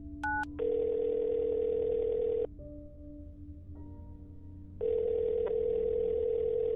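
A telephone extension is dialed in a hotel, starting with short dialing tones, then a long steady ringing tone that pauses and comes back. No one speaks.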